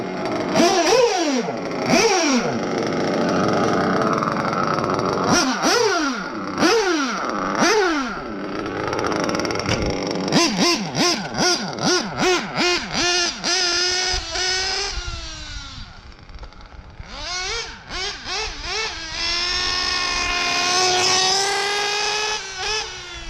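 A modded RC car engine fitted with a Triton L5 Nova race carburetor runs loud and close, revving in repeated bursts. Each burst climbs and falls in pitch, then the engine settles into a higher, sustained whine near the end.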